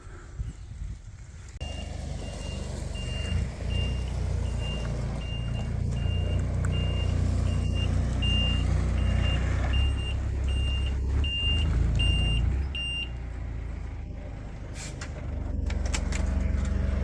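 A delivery truck backs in to dump a load of fill at a pool and deck construction site, its reversing alarm beeping in a steady regular series over a low diesel engine rumble, then the beeping stops as the engine idles on.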